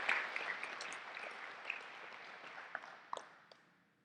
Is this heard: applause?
yes